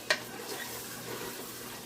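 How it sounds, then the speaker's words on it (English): Jollof rice stirred in a pot with thyme and seasoning, a steady close sizzle and frying hiss beneath a single clink of the spoon at the start. "Then I kept stirring again to avoid burning."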